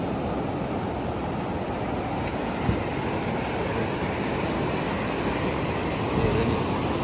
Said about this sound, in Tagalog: Ayan, parang nagwawala yung alon na yun